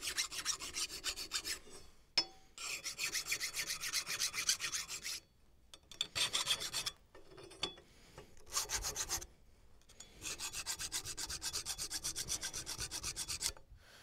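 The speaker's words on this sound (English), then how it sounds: "now we have the file work done on the bolt itself" A hand file rasps across a wrought iron door bolt in bursts of steady back-and-forth strokes, close and clear, separated by short pauses of near silence.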